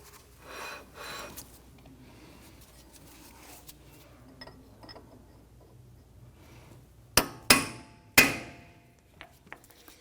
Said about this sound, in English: take a chisel or a punch, and we want to go ahead and dimple the crown right here on both sides